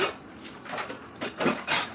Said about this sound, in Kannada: ಆಮೇಲೆ ಎಲ್ಲ ಪಾತ್ರೆಗಳನ್ನೆಲ್ಲ ತೊಳ್ಕೊಂಡು